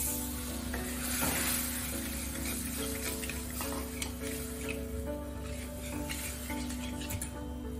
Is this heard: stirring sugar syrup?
yes